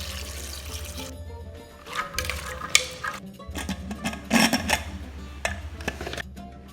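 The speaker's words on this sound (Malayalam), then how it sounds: "ഇനി ഇത് വേവാൻ ആവശ്യത്തിനുള്ള വെള്ളം ഒഴിച്ച് കൊടുക്കുകയാണ്" Water poured into a pot of soaked chickpeas for cooking, a close liquid splashing and gurgling that rises in bursts over a steady low background hum, with no talk.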